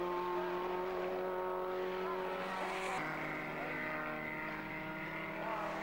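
Racing cars pass on a motor racing circuit in archive footage, engines droning in sustained tones that drop in pitch midway as one car goes by, with more engine noise trailing behind.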